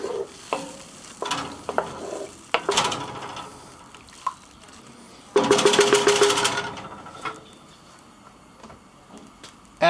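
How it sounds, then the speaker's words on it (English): Beef stroganoff with stock is stirred in a Dutch oven: a spoon scrapes and clatters through the simmering liquid in irregular bursts, with a longer, busier stretch of stirring midway and soft bubbling between strokes. "Give that a bit of a stir."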